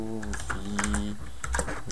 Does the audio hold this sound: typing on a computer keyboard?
yes